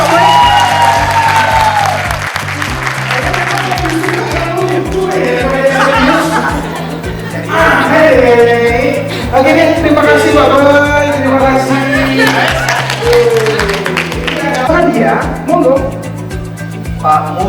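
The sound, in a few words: audience applause for Pak Boy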